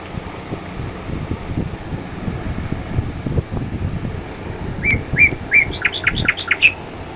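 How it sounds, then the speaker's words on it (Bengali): Birds chirp and tweet by a riverside with moored boats, a short run of bright, quick calls arriving late and fairly close, over steady wind rumble. "পাখিরাও ডাকছে, কি সুন্দর"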